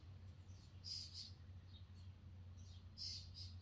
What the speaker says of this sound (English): You hear that? Yeah, the birds are out.